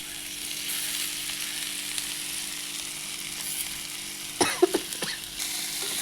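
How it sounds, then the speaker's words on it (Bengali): Fried potato and eggplant tipped into hot oil with browned onions, giving a steady close sizzle with a burst of louder crackling spatters near the end. "এর মধ্যে আমি এবার দিয়ে দেবো ভেজে রাখা আলু আর বেগুন"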